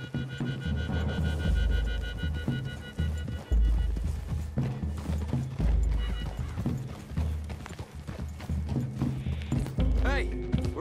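Horse hooves clip-clopping in the Red Dead Redemption 2 video game as riders move through trees toward a clearing, a steady rhythmic run of hoofbeats with occasional snorts, under intermittent talk.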